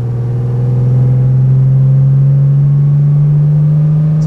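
A 1953 Mercedes 300 S Cabriolet drives while still warming up, its engine giving a loud, steady low hum that rises slowly in pitch as it accelerates, heard from inside the car.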